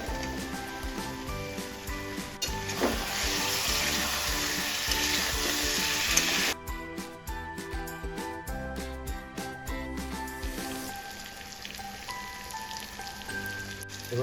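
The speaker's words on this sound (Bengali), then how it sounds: "এবার আমরা ভেজে রাখা চিকেনগুলোকে এর মধ্যে দিয়ে দেবো" Pre-fried chicken pieces go into a sizzling chicken kosha masala in a pan: a bright, loud sizzle, then a sharper burst of crackles and clatters as the pieces land, settling into a quieter fry.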